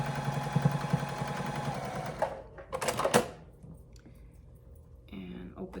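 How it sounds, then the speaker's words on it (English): Home sewing machine stitching a quarter-inch seam on a scrappy mushroom quilt block, its rapid buzzing run for about two seconds, then short bursts and clicks as it stops, with quieter handling noise after. "And then we're gonna stitch that on 1/4 of an inch."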